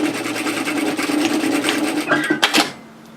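A sewing machine runs a steady, fast stitch along a seam with right sides of woven fabric together for a kimono robe, close and continuous for about two seconds before a couple of sharp clicks as it stops.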